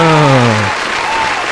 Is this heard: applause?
yes